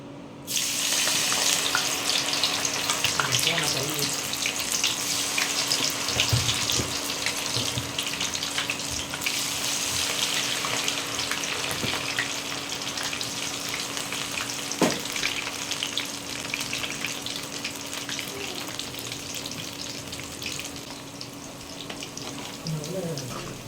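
Cauliflower pieces for gobi 65 fry in hot oil, giving a loud, continuous sizzle and crackle that holds steady throughout, with occasional clinks and stirring noises in a home kitchen.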